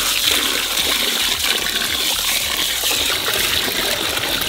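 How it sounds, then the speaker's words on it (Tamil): Water poured in a steady, heavy gush onto rice for soaking before making village-style goat biryani outdoors, loud and continuous up close. "தண்ணியை ஊற்றிடலாமா?"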